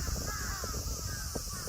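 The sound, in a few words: crows cawing in Kanazawa, Japan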